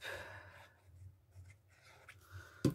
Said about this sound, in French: Et donc on met de la colle ici.